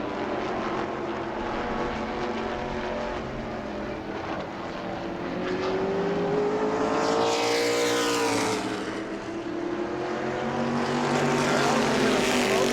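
A stock car and modified race cars roar around the track at New Smyrna, their engines droning steadily, with one car sweeping past loudly and falling in pitch midway.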